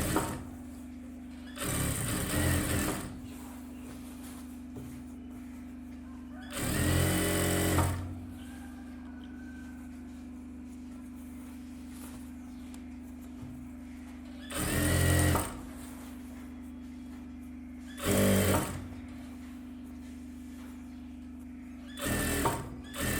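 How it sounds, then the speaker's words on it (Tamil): Sewing machine stitching a folded half-inch hem on a silk skirt, running in four or five short loud bursts separated by quiet pauses as the fabric is turned. "மடிச்சுட்டு உள்பக்கம் கூடி ஒரு 1/2 இன்ச்சு கணக்கு பண்ணி தையல் போட்டுவோங்க"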